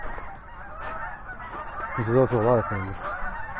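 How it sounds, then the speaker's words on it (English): Outdoors, a few geese honk in short nasal calls, near and fairly loud, while someone speaks over the steady background just before them. "We got some geese."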